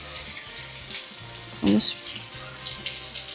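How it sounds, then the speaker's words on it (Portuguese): Hamburger patties fry in a pan, getting a light browning before going into tomato sauce. There is a soft sizzle with light clinks, and one brief louder burst of spatter, with no talking over it. "Então eu vou dar uma leve fritadinha antes de jogar no molho de tomate."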